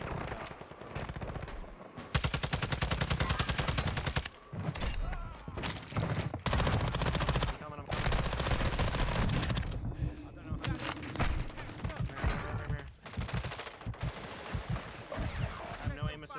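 Heavy automatic gunfire in the Warzone 2 video game, repeated long bursts with a few brief gaps, loud and close, while a player talks intermittently over the shooting.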